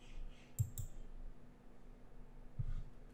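A computer mouse gives a few sharp, quiet clicks, a quick pair followed by a single click after a pause, over near silence.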